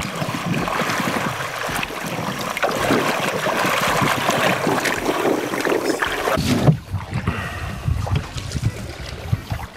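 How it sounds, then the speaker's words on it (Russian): Rowing a boat on a river toward waterfalls in Sierra Leone, with repeated splashes and sloshes of oars dipping into water, wooden knocks and creaks, and wind buffeting the microphone; the water noise thins out toward the end. "Сейчас в нее залезем и погребем к водопадам."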